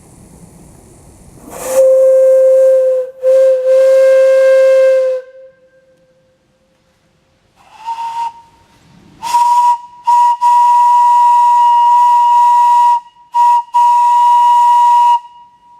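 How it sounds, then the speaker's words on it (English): A steam engine whistle on 10 pounds of pressure blows loudly in long steady blasts, first a lower tone, then after a hissing pause a higher shriek in several bursts. "We'll blow the whistle again just for the heck of it"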